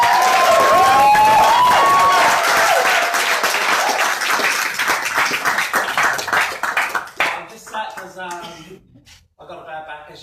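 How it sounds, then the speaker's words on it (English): A large crowd applauds at a business training event, with dense steady clapping and some cheering that tapers into scattered claps over about ten seconds, with someone talking over the fading end. "So give a big round of applause like you mean it"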